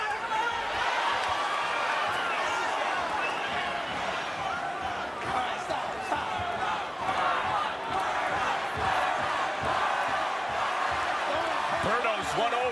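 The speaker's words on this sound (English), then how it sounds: "You hear the Berto chants." A large crowd at a boxing match, Andre Berto vs Robert Guerrero, chants "Berto" and roars steadily in a big arena, a dense wall of voices with occasional sharp bangs underneath.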